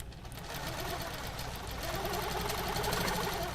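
A sewing machine stitches steadily along a line guided by a ruler template on a Steady Fit ruler base, its motor whirring continuously and close up with a fast, even rhythmic chatter throughout.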